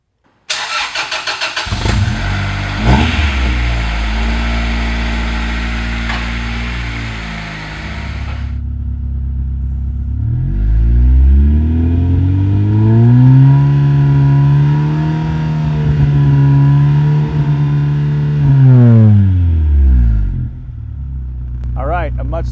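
Car engine with a newly installed axle-back performance exhaust starting up and idling roughly, then revving up and holding a deep, throaty drone before settling back down, loud and close with no talk.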